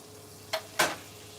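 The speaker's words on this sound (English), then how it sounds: "we're going to fry it up" A battered Monte Cristo sandwich is laid into a hot pan, giving a brief sizzle followed by a louder, longer hiss of frying that fades out over a faint kitchen fan hum.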